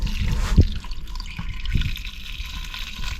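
Spring water poured into a pot of frozen vegetables, close-up liquid splashing and dripping with a sharp splash early and further uneven glugs and trickles.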